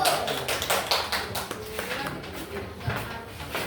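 A primary school class of children clapping their hands in a classroom, a brief burst of uneven claps with some thumps and a voice speaking over it.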